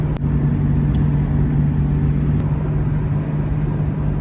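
A Nissan Skyline GT-R with a 5-speed manual gearbox, heard from inside the cabin while driving: a loud, steady low engine drone and road rumble, with a couple of faint clicks.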